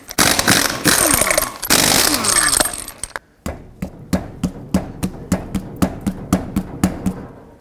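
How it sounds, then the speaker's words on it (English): Impact wrench bursts loosening six lug nuts with a 21mm socket on a 2001-07 Toyota Sequoia: a long loud rattling run, then a string of about a dozen short, sharp evenly spaced hits close by. "take off all 6 lug nuts using a 21mm socket"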